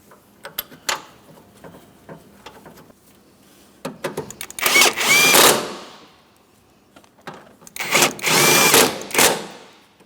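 A power tool snugs up engine mount bolts on a 2008-2016 Chrysler Town & Country 3.8L, with two loud whirring bursts a few seconds apart, separated by quieter clicks and handling clatter nearby.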